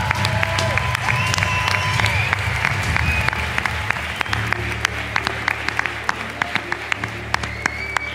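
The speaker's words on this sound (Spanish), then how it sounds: "Aplausos para Plex y Mariana, amigos y amigas." A crowd at Velada del Año IV, a ring fight-event presentation, applauds fighters Plex and Mariana with sustained clapping and scattered cheers, close and lively, and a few sharp individual claps stand out.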